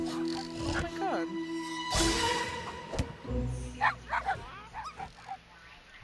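Puppies in a video game let out short yips and small barks, several brief cries scattered among game sounds, with a person talking over them.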